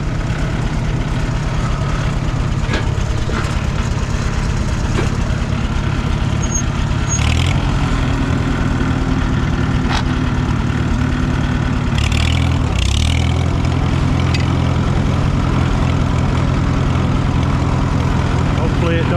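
A 1944 Farmall H tractor engine runs steadily, a loud, close, low chugging drone that continues unbroken, with brief clanks and a voice in the background.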